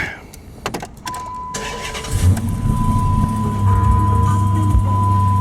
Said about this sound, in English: I wonder what happens if you start up the car without the accelerator pedal